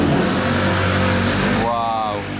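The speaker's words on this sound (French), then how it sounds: "Oh, l'Aston Martin Valiant de nouveau." A loud Aston Martin Valiant supercar engine roars close by in Monaco, a sustained revving note that fades near the end as a voice talks over it.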